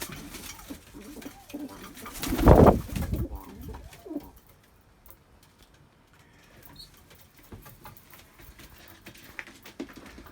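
Flight pigeons coo softly nearby amid rustling and fluttering, with a louder burst of flapping wings early on and faint scuffling afterward.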